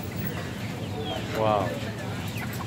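Village chickens cluck at a busy market, a brief rise of clucking standing out over the constant crowd bustle while someone speaks nearby.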